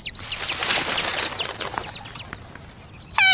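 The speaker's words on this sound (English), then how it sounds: "Hey, birdies! Where are you going?" Cartoon birds chirp and tweet in quick, bright repeated calls, fairly close and lively, ending with a louder burst of rapid trilling at the end; no talking over them.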